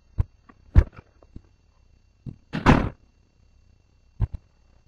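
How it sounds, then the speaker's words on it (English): A door being shut indoors, heard as a few sharp knocks and thumps, then a louder solid closing thud and a final couple of soft clicks, close by in an otherwise quiet room. "let me shut this door"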